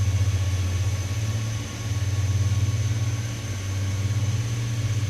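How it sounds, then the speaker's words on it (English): Airbus A350 jet engines spooling in Microsoft Flight Simulator 2024, heard from the cockpit as a steady loud low drone with a pulsing throb and a faint high whine, rising and dipping slightly without talk. "You can hear them spooling."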